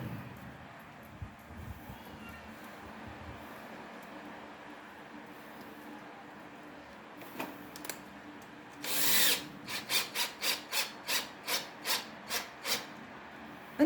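A torque driver tightening a snap-on LPG regulator on a Petron Gasul tank, ending in a quick series of about ten sharp, evenly spaced ratcheting bursts after a quieter stretch of faint handling noise.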